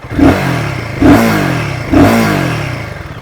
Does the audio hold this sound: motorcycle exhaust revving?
yes